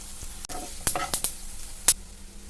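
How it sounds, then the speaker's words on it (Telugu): Coriander, cumin and sesame seeds frying in oil in a pan, a close, soft sizzle with several sharp crackling bursts and stirring scrapes, uneven in rhythm. "2 స్పూన్లు ధనియాలు, 1 స్పూను జీలకర్ర, 2 స్పూన్లు నువ్వులు వేసుకొని బాగా వేపేసుకోవాలి"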